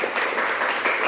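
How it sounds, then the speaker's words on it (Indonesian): Worshippers at an Indonesian church service clap their hands in praise, a brief dense burst of applause filling the whole moment with no voices over it. "Beri tepuk tangan buat Tuhan."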